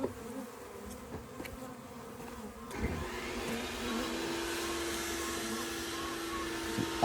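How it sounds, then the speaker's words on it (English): Dense, steady hum of many honey bees buzzing around a hive outdoors, growing fuller partway through, with individual bees passing near. "So there's a lot of bees here."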